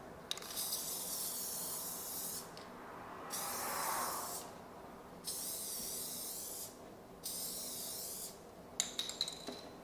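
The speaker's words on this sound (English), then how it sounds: "now I'm just going to spray along here, make sure you get it all around." Several bursts of spray adhesive hissing from an aerosol can, each lasting a second or two with short pauses between, close up and steady.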